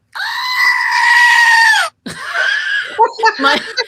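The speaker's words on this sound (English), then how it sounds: "It's my screaming goat." A goat lets out a long, loud, human-like scream lasting nearly two seconds, followed after a short gap by a burst of choppy, broken bleats and yelps close to the microphone.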